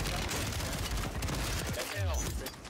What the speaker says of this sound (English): what is these missiles coming at me, bro